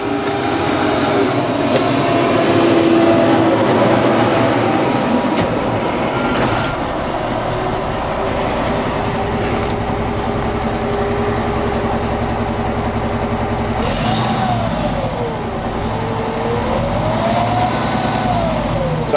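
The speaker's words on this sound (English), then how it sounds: "Now we'll just go ahead and start the truck now." A 2006 Peterbilt 379 double-sleeper truck engine cranks and fires up, then settles into a loud, steady, deep idle with rising and falling revs, close by with no talk.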